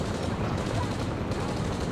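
Dense rapid gunfire and tracer rounds in the shooter game Rage 2, a loud sustained burst of automatic shots blended with battle noise.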